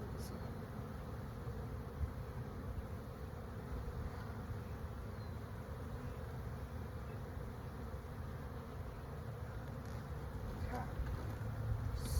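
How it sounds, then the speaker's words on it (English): Honey bees swarm around an open hive, giving a dense, steady buzzing drone that runs without a break from start to finish, with a brief voice murmuring over it. "so many bees"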